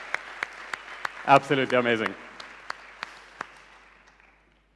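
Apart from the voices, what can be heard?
audience applause at conference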